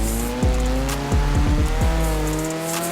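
A 1986 Ford Escort RS Turbo in Forza Horizon 4 drones at a steady pitch, and several quick gear changes drop the revs while tires squeal briefly. It ends with the engine note cutting away.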